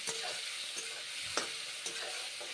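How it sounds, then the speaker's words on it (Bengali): Mushrooms frying in hot oil in a pan, a steady bright sizzle with a few soft stirring scrapes, close and alone. "গরম তেলে মাশরুম দিয়ে মাশরুমগুলো ভেজে নিচ্ছি ভালো করে ভেজে নিচ্ছি"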